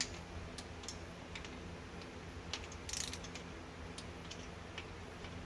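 A torque wrench ratchets bolts on an electric conversion, giving a quiet run of rapid, close ticking clicks with a brief louder burst midway and no speech.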